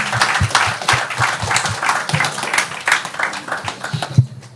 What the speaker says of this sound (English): Thank you, the panelists. They deserve applause.